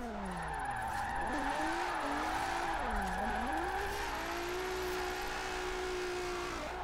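A car driven through mountain roads in the racing game Forza Horizon 4 on PC, its engine note steadily rising and falling through gear changes with occasional tyre squeal, continuous and evenly mixed.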